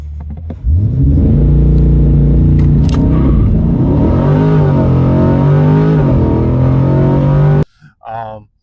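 A 2025 Chevrolet Corvette C8 Stingray 1LT does a launch-control start: the engine is held at a steady high-rev roar, then surges loudly and continuously as the car accelerates hard, before cutting off abruptly near the end.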